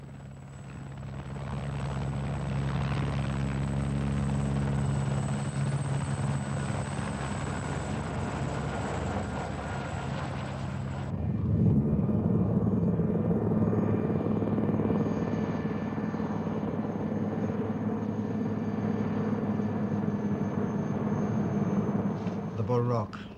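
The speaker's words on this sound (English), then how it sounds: "The helicopter drops onto its pad at the top of this pinnacle." A helicopter's steady rotor thrum and engine whine hold loud and constant, shifting in tone midway as it settles onto its pad atop a pinnacle at Bull Rock, West Cork.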